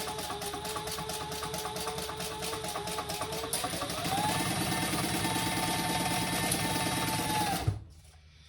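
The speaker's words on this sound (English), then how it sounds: "now I am going to just sew that all the way around, baste it in place" A sewing machine runs steadily while basting a seam around a crossbody bag, a close, continuous mechanical whir that shifts pitch slightly midway and then stops abruptly.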